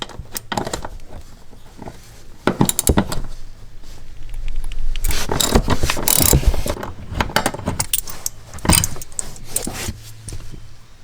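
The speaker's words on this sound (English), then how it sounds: "There's another T50 Torx right here. I'm going to loosen both of those" Tool work loosening T50 Torx seat bolts on a Chevy Colorado: close metallic clicks and rattles come in bursts, with a steadier stretch of ratcheting and clanking mid-clip.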